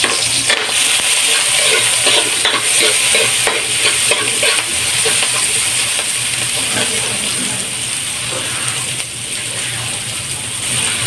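Garlic and onion fry in a little oil in a pan, a loud continuous sizzle with repeated clattering stirs close by, and a voice speaks briefly.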